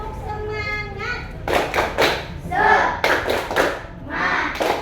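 Schoolchildren in a classroom clap through the 'tepuk semangat' chant in bursts of rhythmic hand claps, with children's voices chanting along after a teacher's spoken lead.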